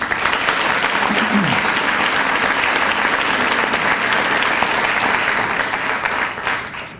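Audience applause for Hall of Fame inductees at a 50th anniversary celebration, a dense, steady round of clapping filling the room for about six seconds before tapering off at the end.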